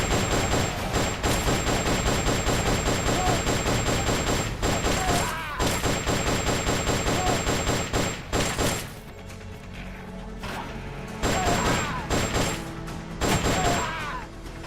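Rapid bursts of gunfire in Metal Gear Solid: Peace Walker, loud repeated shots in dense volleys with brief pauses and a steady background tone, a voice speaking faintly between bursts.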